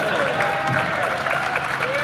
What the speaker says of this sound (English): Please give a big round of applause for our final speaker.